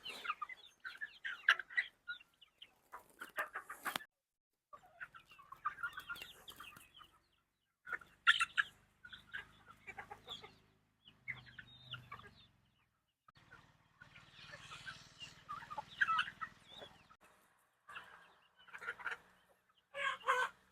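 Country chickens cluck and squawk in short, scattered bursts while pecking at feed on a farm, the calls close and intermittent with quiet gaps between them, and a rooster crows now and then.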